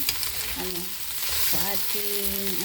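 Fried rice with ham sizzles in a pan, a constant hiss of frying under a voice speaking.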